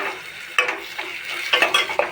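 Chilies and curry leaves fry in a pan for a potato palya, a steady sizzle broken by several scraping stirs of the spatula against the pan, close and fairly loud with no voices.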